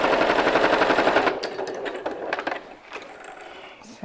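A sewing machine stitches along a fabric edge with a rapid, dense mechanical whirr for just over a second, then stops, leaving light handling clicks and rustles.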